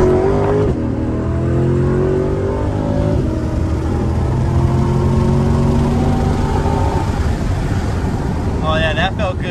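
A Chevrolet C8 Corvette Z51 with the Performance Package revs loud and close as it accelerates, a steady engine roar rising in pitch over wind noise, with a voice speaking briefly toward the end.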